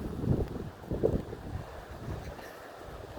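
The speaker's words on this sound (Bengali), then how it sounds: "এই যে বাতাস শুরু হলো, দেখেন সবাই" Gusty outdoor wind buffets the microphone as rain approaches, with low rumbling surges around the start and near the one-second mark, then a steadier, softer blow.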